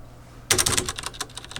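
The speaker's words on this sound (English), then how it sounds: "Brown switches. Thinking about making this keyboard." Typing on a mechanical keyboard with brown switches begins abruptly after a half-second of quiet, a close, rapid burst of clacking keystrokes that gradually slows and softens.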